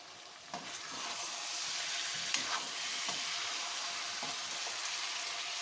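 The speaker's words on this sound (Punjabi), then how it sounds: "ਧਨੀਆ ਪਾ ਕੇ 1 ਮਿੰਟ ਲਈ ਸੀ ਸਬਜ਼ੀ ਨੂੰ ਹਾਈ ਫਲੇਮ ਤੇ ਪਕਾਵਾਂਗੇ" Tinda vegetable curry with coriander sizzles and fries steadily in a pan over a high gas flame, with a few soft stirring scrapes over the continuous hiss.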